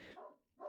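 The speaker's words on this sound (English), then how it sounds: "sorry about the dogs, it is what it is." Dogs barking in a home, a couple of short barks near the start and another rising at the end, fairly faint in the background.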